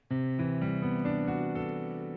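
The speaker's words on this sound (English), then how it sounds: "What you're hearing there is the sound of a major 13th chord" A single major 13th chord with a sharp 11 rings out, struck suddenly and held as a rich, sustained block of tones, with a couple of notes shifting partway through, heard alone and fairly loud.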